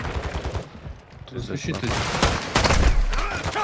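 Rapid gunfire from bots in Call of Duty Warzone DMZ, with bursts of automatic fire and single shots crackling in quick succession while players talk over the shooting.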